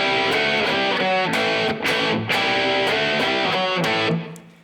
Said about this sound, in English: That reverse rake, that is huge when you play that on the guitar